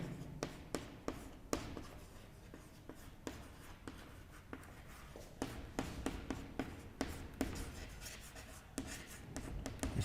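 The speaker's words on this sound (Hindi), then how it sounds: "तो यहाँ पे मैं लिख देता हूं फर्स्ट" Chalk or marker writing on a classroom board during a history lecture, a close run of quick taps and short scratchy strokes in an uneven rhythm, with faint room noise in between.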